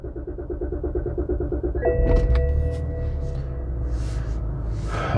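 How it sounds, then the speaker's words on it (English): A 2007 BMW X5 E70 with a faulty gear selector switch cranks and starts: a rhythmic starter chug, then the engine catching into a steady rumble with a rising whine, close by and fairly loud. "Let me try to start the car."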